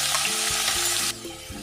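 Cumin seeds and onion frying in a pan for a Nepali paneer dish, a loud close sizzle and crackle that drops suddenly to a quieter hiss partway through, with no voices.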